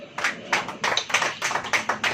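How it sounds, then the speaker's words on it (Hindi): A church congregation claps in unison during worship, sharp rhythmic claps repeating about every quarter second, loud and close, with no voices over them. "ताली तो ऐसे बज रही है कि जैसे पता नहीं कहां से आए"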